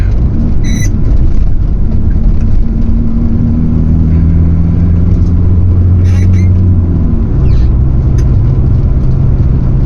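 Vintage VW T3/T25 van driving on the A537 Cat and Fiddle road, a steady loud engine drone with a downshift and pitch changes as it trundles along at moderate speed, heard from inside the cab.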